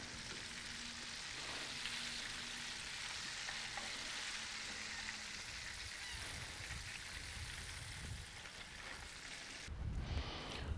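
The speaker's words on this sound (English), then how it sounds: "once they float back up when they're skin side up, we're looking for them to cook another minute or so after that" Mullet fillets frying in hot oil on the Gulf Coast of Wakulla County, a steady, faint sizzle and crackle that continues throughout with a brief stirring clatter near the end.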